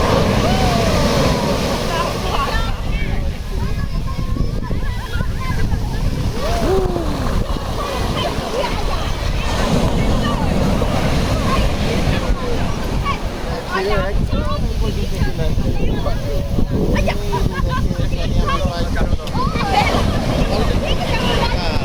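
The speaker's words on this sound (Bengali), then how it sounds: "লাইভ ঢেউ দেখেন।" Sea waves wash and splash continuously along Shenzhen beach in China, with wind noise and a speaking voice heard through much of the scene.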